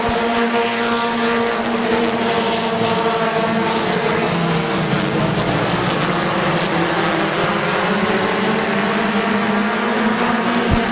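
Race cars at Midvale Speedway, several engines roaring together in a loud sustained drone with shifting pitch as the pack runs side by side through the turns.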